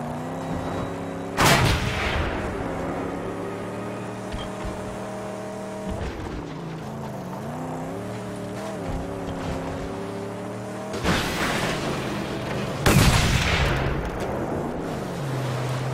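Gunfire strikes a car in the Mad Max video game, a few loud sharp bursts of impacts and shots cutting across a steady rumbling engine drone.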